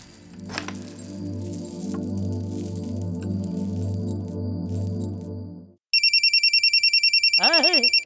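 A phone ringtone starts abruptly after background music and trills loudly and repeatedly in an even electronic pulse, close by, with a brief rising chime over the end, in a Hindi drama scene.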